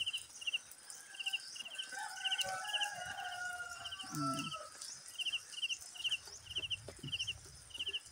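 Steady, rhythmic cricket chirps repeat in short bursts across the clip at night, with rooster crows and clucking from farm fowl in the background.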